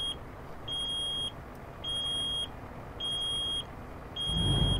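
Low brake air pressure warning in the American Truck Simulator game, a high electronic beep repeating four times in even pulses of about half a second, with engine rumble swelling at the end.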